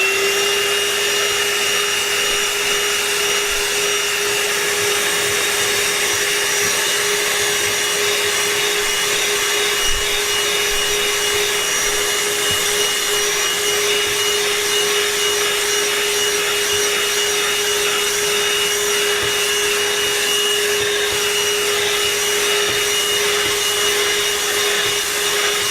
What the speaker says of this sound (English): We'll try the brush extension. Maybe that'll help with the muddy stain I just put on my freshly cleaned floor mat.